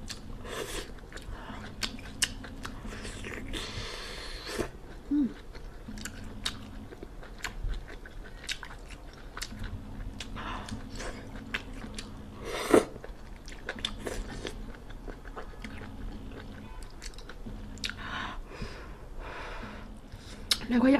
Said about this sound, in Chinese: 我的扇贝肉是大流沙的，尽管放心吃就行了。